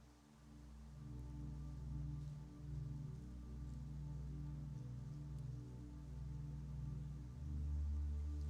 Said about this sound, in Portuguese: Parque do Novo Oratório está chovendo